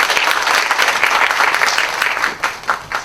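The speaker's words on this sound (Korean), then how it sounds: "박수로 맞아주시기 부탁드리겠습니다." An audience at a corporate seminar on retirement pensions applauds, a dense run of clapping that thins into a few scattered claps at the end.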